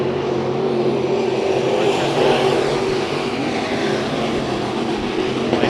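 Sprint cars race around the Bakersfield Speedway dirt track during a heat race, engines roaring loud and continuous in a steady, close droning blare with no break.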